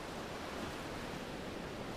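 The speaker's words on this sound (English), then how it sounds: "A little stream, reaching the edge of the grassland above the beach, forms a little waterfall." A little waterfall where a stream drops over the edge of grassland above a beach gives a steady, broadband rushing hiss, faint and unchanging throughout with no voices.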